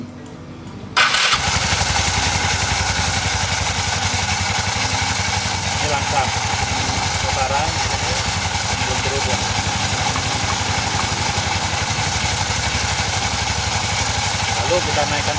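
A motorcycle with a centrifugal automatic clutch starts up after a moment of quiet and then runs steadily at idle close by, a loud, even engine drone throughout.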